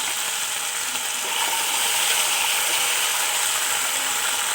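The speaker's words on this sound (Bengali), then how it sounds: "গাঠিগুলোকে আমি একটু লবণ দিয়ে ভাজবো" Pieces of taro corm fry in oil with salt, making a continuous, close sizzling hiss that swells slightly partway through and holds steady, with no talking.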